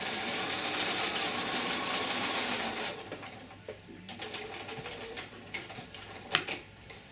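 A sewing machine stitches a quarter-inch seam around a curve on a small adult face mask, its motor whirring steadily at first, then running in shorter, quieter bursts with small clicks as the presser foot is lifted.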